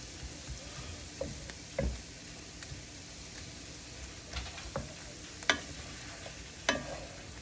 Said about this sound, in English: I tell you to leave it alone and I stir it.